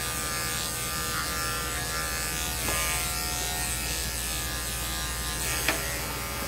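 Electric dog grooming clippers fitted with a number 10 blade buzz steadily and close on a Shih Tzu, a constant motor whine with faint shifts as the blade moves through the coat.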